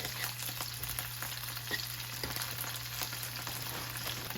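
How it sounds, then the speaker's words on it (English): Beef strips for Mongolian beef sauté in a hot pan, giving a steady, close sizzle with faint crackles and the odd soft tap of a utensil, and no voices. "You want to saute this down for 2 to 3 minutes on each side,"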